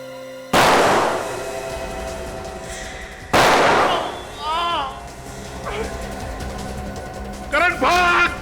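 Two sharp, loud gunshots crack in a TV crime drama scene, the first near the start and the second about three seconds later, each with a ringing decay, followed by shouting voices.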